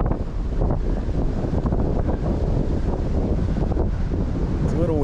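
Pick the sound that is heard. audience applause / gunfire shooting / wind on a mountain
wind on a mountain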